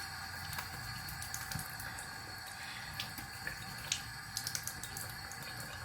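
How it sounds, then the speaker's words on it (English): Tap water runs steadily into a bathroom sink while someone rinses their face, a continuous hiss with small splashes and drips, fairly close and alone without talk. "I'm gonna just rinse off my face"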